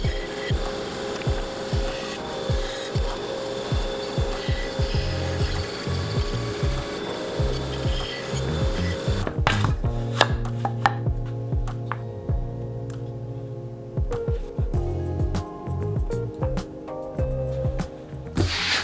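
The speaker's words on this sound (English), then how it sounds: "So the only thing left to do is finish cutting out the letters slowly" A bandsaw cuts slowly through MDF sign letters in a workshop, its steady motor hum broken by rhythmic thuds and rattles, then quieter stretches with intermittent clicks and knocks as the cutting pauses and resumes.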